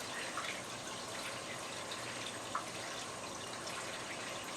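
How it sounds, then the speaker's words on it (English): An aquarium fills with water from a hose attached to a faucet, a faint steady rushing and gushing hiss with light trickles and splashes, no voices. "if you're going to use a hose like this attached to your faucet to fill it up, make sure you keep an eye on it"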